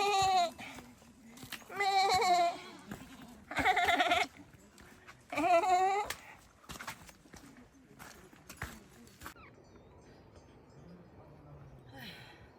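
Goats near mountain herding sheds on a Badimalika trek in Nepal give four loud, close bleats in a row over about six seconds, followed by quieter outdoor ambience.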